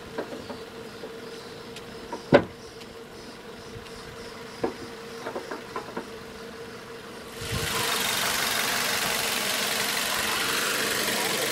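A 2011 Ford Focus SE engine idles quietly, a low steady hum under a few clicks and knocks, then a broad loud rush of noise takes over for the last few seconds.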